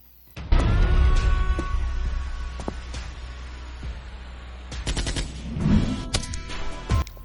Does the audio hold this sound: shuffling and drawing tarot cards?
no